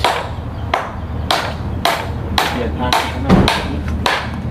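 Nails are hammered into soft wood while stairs are built, making a series of sharp, close blows at a roughly steady rhythm, about one per half second, with a brief spoken phrase in between.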